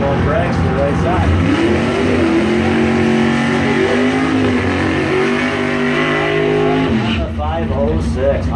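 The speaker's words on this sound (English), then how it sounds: "Got a one going Dragster right side." Dragster accelerating down a drag strip at a bracket race, a loud sustained engine roar rising in pitch and filling the whole stretch before cutting off near the end, heard up close with a constant wash of crowd and track noise.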